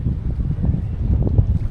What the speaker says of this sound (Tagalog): Yung dagat na yan, mahangin.